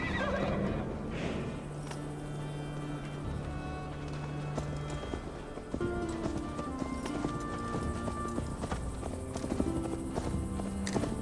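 A horse ridden in Assassin's Creed Valhalla clip-clops along at a steady gait, close and clear, with neighs and whinnies and music layered under the hoofbeats.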